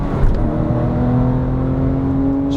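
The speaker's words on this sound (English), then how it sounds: "Just whining the engine out." A 2008 Porsche 911 GT3 997 engine revs hard while cornering, a steady, loud, whining mechanical tone that holds and climbs slightly, heard close from inside the car with no talk.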